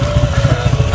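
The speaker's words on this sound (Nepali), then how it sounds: "68 बाइक चलाउँदैछ अब महँगो बाइक चलाउँदैछ" A motorcycle engine runs close by with a steady low, pulsing rumble that holds through the whole moment, loud and continuous with no break.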